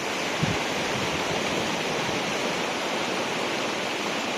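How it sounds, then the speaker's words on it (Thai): Loud, steady roar of the fast-flowing, flooded Mun River, a dense continuous rush close by with a brief low thump near the start. "อู้น้ำไหลเชี่ยวมากครับพี่น้องดูครับ"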